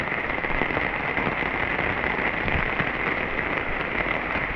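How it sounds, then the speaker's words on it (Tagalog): Heavy rain pours down steadily, a dense, constant hiss and patter with no pauses. "malakas na ulan"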